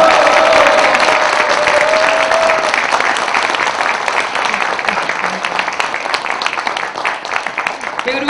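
At a book launch for author Yu Miri, a large indoor audience gives sustained, dense applause with cheering, loud and steady before thinning slightly toward the end.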